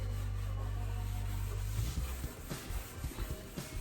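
Scrubbing a limescale-stained sink by hand, a steady rough rubbing over a low hum that turns into uneven, choppy scouring strokes, close and moderately loud with no talking.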